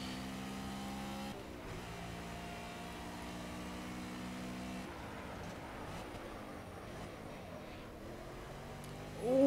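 A BMW M3 GT4 race car in Project Cars on the Hockenheim Ring under heavy braking: the engine note drops in stepped tones as it downshifts, followed by rough engine rumble and a short tire squeal at the end.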